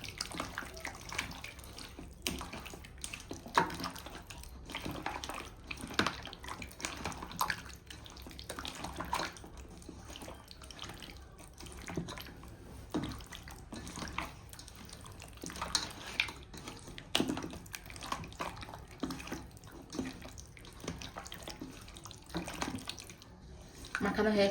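Tap water runs steadily in a kitchen sink during cleanup after marinating goat meat for a pressure cooker curry, a continuous close splashing flow with brief faint interruptions.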